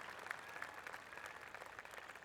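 Soft, polite golf clap from a small gallery in the PGA 2K23 video game, a faint steady patter of applause lasting a couple of seconds.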